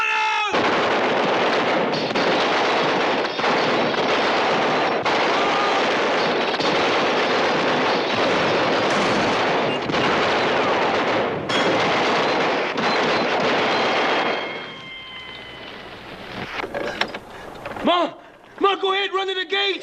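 Loud, dense gunfire rattles almost continuously in a classic western TV series, with shouting voices mixed in, before thinning out near the end into scattered shots and cries.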